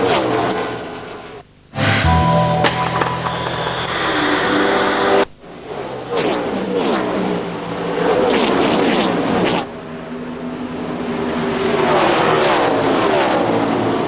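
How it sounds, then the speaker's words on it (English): Stock cars in the 2003 NASCAR Winston Cup all-star race scream past on the track, loud engine roars rising and falling as packs of cars sweep by, with brief gaps between passes and no talking. "the fastest race car that lap was actually Bobby Labonte in the 18 car back in 5th"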